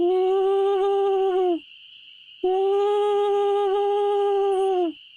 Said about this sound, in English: Sounds like an owl.